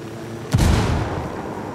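A frag grenade goes off in the Ghost Recon Wildlands video game, a single loud, close boom with a sharp onset and a rumbling tail that fades over about a second against steady background noise.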